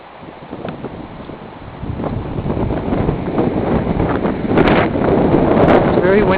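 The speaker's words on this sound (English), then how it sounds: "It's very windy out here." Strong wind buffets the microphone outdoors in a yard on a cold morning, a steady loud rumble and roar that builds over the clip, with gusts swelling toward the end.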